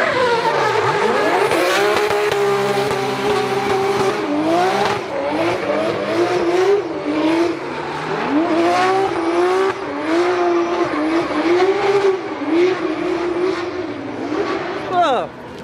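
At the Drift Masters event in Ferropolis, a drift car revs and slides, its engine note rising and falling with tire squeal throughout, while people talk over it.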